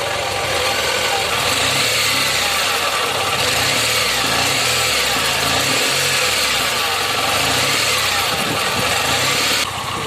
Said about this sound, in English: there is too much vibration in the engine because I have kept the engine RPM as very less